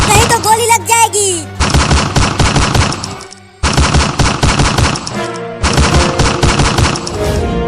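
Rapid cartoon gunfire from a Hindi comedy animation rattles out in three long, loud volleys separated by short gaps. A brief high, squealing voice-like sound comes just before the first burst.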